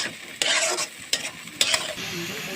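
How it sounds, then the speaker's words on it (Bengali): Eggplant sizzles in a hot pan while a utensil scrapes and stirs in several short bursts, close and fairly loud. "ভালোভাবে নেড়ে চেড়ে এখন ভেজে নিচ্ছি"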